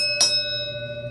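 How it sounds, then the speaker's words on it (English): A decorative metal bell is struck once with a knife, giving a single bright, close strike followed by a clear, sustained ring that slowly fades. "it's a legit bell here"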